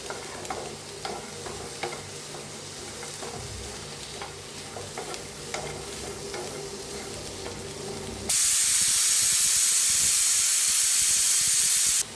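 Onions and green chillies sizzle in a pan with repeated stirring clicks, then the frying suddenly swells into a loud, dense hiss for the last few seconds as mustard oil is poured in.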